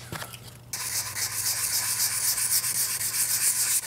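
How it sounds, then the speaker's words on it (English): Steady back-and-forth sanding rasps over a primed wooden prop sword shaped like a giant Lego blade, starting abruptly after a short pause and continuing as a close, even scratchy hiss. "let's do more sanding"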